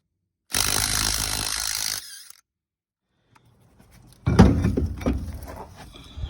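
A battery-powered tool whirs in a short high-pitched burst while work goes on on a 1966 Chevy C-10 pickup, then after a pause comes a second, rougher and louder burst of clattering tool noise.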